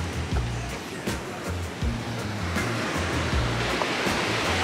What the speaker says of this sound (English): Waves are a bit funky today.